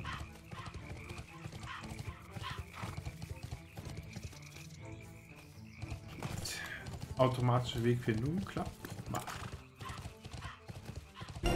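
A horse's hooves clip-clop in a steady rhythm as it travels in the online role-playing game Bless Online, under someone talking, with game music playing alongside.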